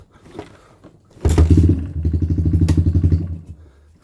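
The engine of a Suzuki LT230S ATV cold starts nearby with a loud catch, then settles into a rough, pulsing, slightly uneven idle before dying down at the end.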